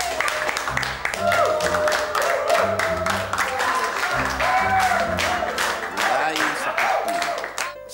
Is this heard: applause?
yes